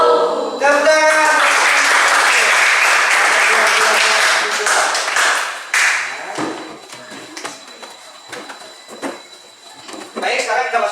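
Applause from a seated group after a classroom presentation in a teacher-training session, starting abruptly, loud and dense for several seconds, then thinning into scattered individual claps and knocks with a brief renewed burst at the end.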